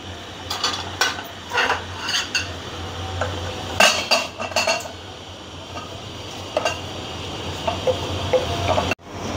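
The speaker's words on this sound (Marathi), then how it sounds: "त्याच्यानंतर आपण खसखस भाजून घेऊया." Poppy seeds being roasted in a kadhai, with a spatula stirring against the metal pan. Close, intermittent clinks and scrapes come in uneven bursts, with no talking.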